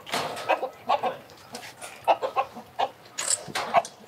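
Fighting roosters in a chicken coop on a game fowl farm near Saigon cluck and squawk repeatedly in short irregular bursts, fairly close and loud, with a thin crow-like call partway through.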